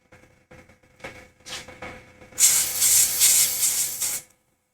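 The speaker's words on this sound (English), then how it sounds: "I like how quiet that compressor is." An airbrush sprays in a loud, steady hiss for a couple of seconds, run by a quiet compressor, after softer scattered handling noises and faint hissing bursts.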